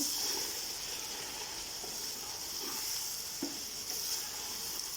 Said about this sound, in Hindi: अब इसमें टमाटर में मिक्स करने लगी और टमाटर को भूनने लगी